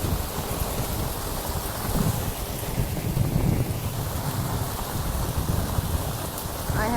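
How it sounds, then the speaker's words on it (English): Heavy rain pours and splashes in through an open window during a breezy storm, a dense, steady roar with low rumbling beneath, close and continuous throughout. "बारिश की छींटे सब अंदर आ रहे हैं"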